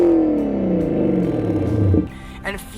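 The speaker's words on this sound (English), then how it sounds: "The E39 M5 has a fantastic sounding naturally aspirated V8." Naturally aspirated V8 of a BMW E39 M5 revving loudly up through the range with a deep harmonic growl, then dropping off abruptly as the throttle closes, leaving a brief quieter idle with small mechanical clatter.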